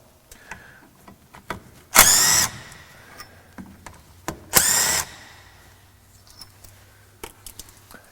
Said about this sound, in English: So I will start by removing the two 11mm fasteners